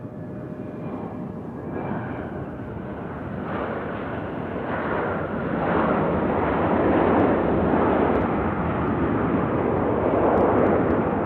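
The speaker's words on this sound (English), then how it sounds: "Loud plane." Loud airplane passing at Nashville International Airport, a deep roaring jet rumble that swells steadily and stays strong and close through the end.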